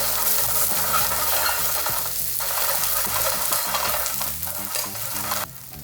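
Halloumi cheese cubes sear in a very hot pan coated with olive oil, giving a loud, steady sizzle with frequent stirring and scraping throughout, cutting out abruptly near the end.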